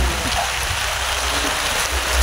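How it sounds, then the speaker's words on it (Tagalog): Heavy rain pouring down steadily during a storm, a dense continuous hiss with no break, fairly loud and close, no voices. "Malakas na yung ulan."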